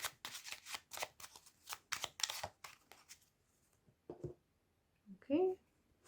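A deck of Lenormand fortune-telling cards being shuffled and cut, giving a run of quick riffling flutters, then a brief pause, a soft tap and a short card sound near the end, close and fairly quiet.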